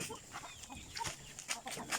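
Chickens clucking inside a coop, a quick run of soft, scattered clucks and calls heard fairly close over low background noise, no talk.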